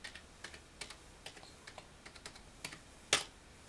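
Quick, light keystrokes on a computer keyboard as a Raspberry Pi login is entered, a soft, close, irregular patter of about a dozen taps ending in one sharper key press.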